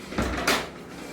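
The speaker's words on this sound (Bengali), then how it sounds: "দরজাটা খোল তো, কে আছিস," A household door swings open indoors with a short wooden creak and knock, two brief bursts of sound in quick succession, fairly close and moderately loud, with no talking.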